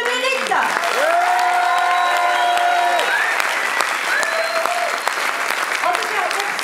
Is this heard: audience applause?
yes